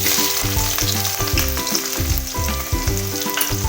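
Onions dropped into hot oil already crackling with whole cumin and bay leaves, frying loudly and steadily for a Bengali restaurant-style chicken masala, under a repeating musical loop with no voice.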